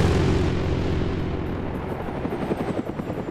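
A Huey helicopter circles in a multiplayer combat video game, its rotor thumping loud and steady with a pulsing beat as it sweeps past.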